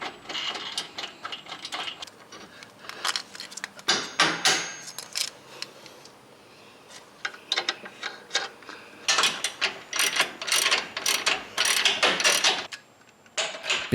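Upper control arm bolts on a Jeep JL Wrangler frame get tightened during a lift kit install, with a ratchet clicking in quick bursts of metallic ticks, close and busy, with short pauses between runs.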